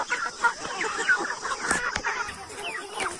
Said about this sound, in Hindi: देखिए इधर से भी मुर्गे आए जा रहे हैं